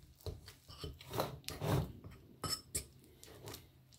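Quiet scraping and rubbing strokes in an irregular rhythm as batter is mixed in a bowl, with no voices.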